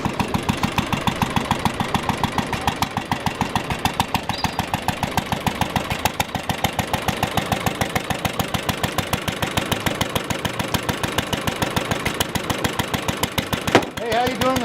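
An antique International 1.5 to 2.5 horsepower stationary engine runs at an outdoor relic show with a steady, rapid chugging rhythm, close and even, ending with a brief clunk.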